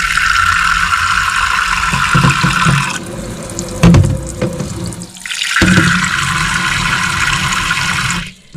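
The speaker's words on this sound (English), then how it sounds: "We're going to go ahead and fill these up with some water." Tap water running steadily into two glass containers, a loud continuous rushing stream that briefly cuts out and shifts in tone midway, then resumes until stopping at the end.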